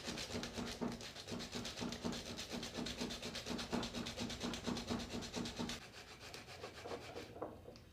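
Coarse 60 grit sandpaper rubs steadily over wood during carving work, a continuous close scratching that stays even for most of the stretch and then softens near the end, with no voices.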